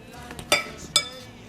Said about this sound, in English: Alright, mixing it together.